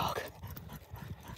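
A dog close by, with soft snuffling, panting and faint whimpering noises, quiet and continuous over a brief moment outdoors.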